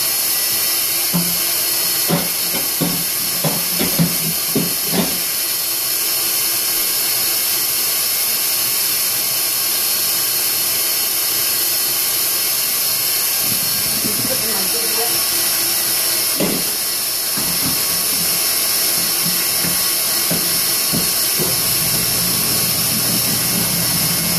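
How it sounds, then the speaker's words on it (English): Stand mixer whipping Swiss meringue buttercream, a constant loud high whirring hum that runs without pause, with someone talking briefly over it. "I'm putting it in my mixer. That's going to be really low."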